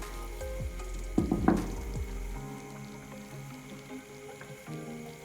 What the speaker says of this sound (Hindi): ये अंडे जो हैं ये डाल के उबलते हुए चीज़ में डालने हैं, सूप में देखिए इस तरह डालने हैं